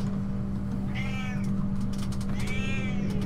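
Pet cat in a room meowing twice, two drawn-out mews about a second and a half apart over a steady electronic hum from a nearby game stream.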